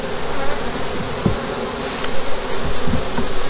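Honeybees buzz densely around a farm hive, a loud, close, continuous drone with individual bees passing near, alone without speech.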